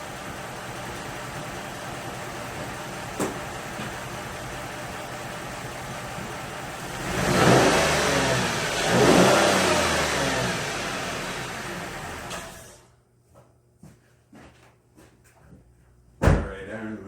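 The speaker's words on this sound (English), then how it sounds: "I'll do a couple revs and then I'm going to shut it off." A car engine idles steadily, then revs up twice in quick swells before being shut off, leaving near silence broken by a few small clicks and a brief thump.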